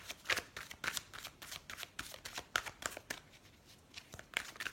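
Oracle cards being shuffled by hand, a rapid series of soft, crisp card slaps and riffles in an uneven rhythm, close and fairly quiet with no speech.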